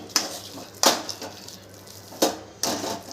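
A spoon mixing potato masala with fresh coriander in a pan, giving four sharp scraping knocks against the metal at irregular intervals, close and fairly loud with quiet pauses between.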